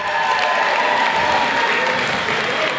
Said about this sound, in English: let's hear it for our maid of honor, Alexa.